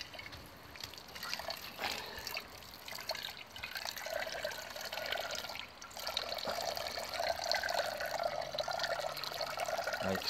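Water poured into a Millbank filter bag, a soft, faint trickle and splash that grows fuller toward the end as the bag fills.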